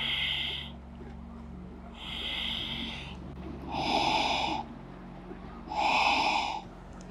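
Long, deep, slow breaths during a yoga class holding the Lord of the Fishes pose: four drawn-out, airy inhales and exhales, each lasting about a second, close and steady over a faint background hum, with no talking.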